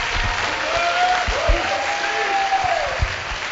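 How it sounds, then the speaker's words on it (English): An audience in a school setting breaks into sustained applause, steady clapping filling the room for several seconds with a faint tone and a few louder claps near the end. "Give him a round of applause"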